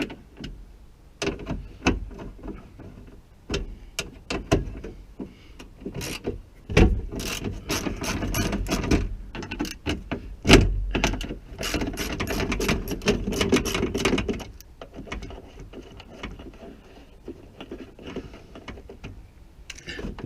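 A ratchet with a long 10mm socket cranks loose the bolts on a BMW door panel during a front window regulator replacement, giving dense irregular clicking, scraping and knocks close by.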